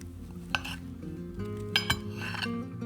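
A knife cuts through cooked potatoes on a hard surface, giving a few sharp clicks and taps spaced across a quiet background, close and fairly soft.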